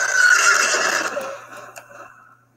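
A horse in a video game lets out a single loud, close whinny that rises and then trails off over a couple of seconds, alone without talk.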